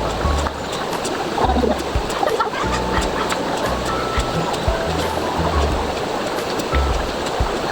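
A provincial river flows in a steady, loud rush of water close by, with a few low knocks and thuds scattered through it and no speech.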